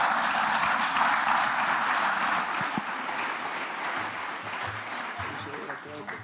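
Conference audience applauding a speaker at a crypto event, a broad wash of clapping from a full hall that slowly fades, with a voice speaking faintly near the end.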